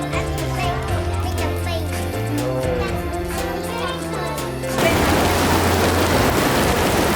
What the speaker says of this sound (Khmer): មានភ្លៀងធ្លាក់យ៉ាងខ្លាំង